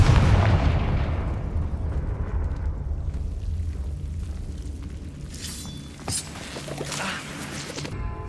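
A Confringo spell explosion in Hogwarts Legacy opens with a loud booming blast that rumbles and decays over several seconds, followed by scattered crackling debris and smaller impacts.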